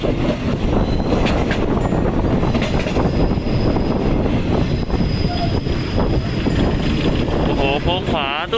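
An SRT passenger train with a third-class carriage rolls steadily along jungle-line rails, a loud continuous rumble heavy with wind buffeting the microphone, lasting several seconds with no clear voices.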